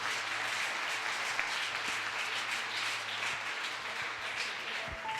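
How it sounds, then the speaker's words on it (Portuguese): A church congregation applauds during a service, with dense, steady clapping filling the room throughout and a faint voice briefly audible near the end. "Se você puder, dá uma salva de palmas para Jesus."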